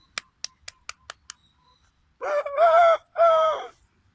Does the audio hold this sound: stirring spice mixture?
no